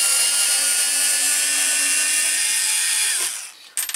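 A power drill drives Phillips screws into wood with a loud, steady whir that holds for about three seconds, then winds down and stops, followed by a couple of brief clicks.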